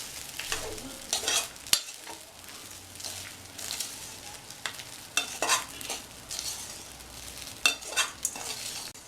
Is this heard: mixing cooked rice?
yes